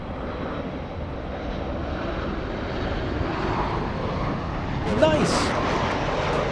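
A JetBlue airliner lines up on the runway at LAX, its engines a continuous low rumble and whine heard from afar, with a single brief spoken word near the end.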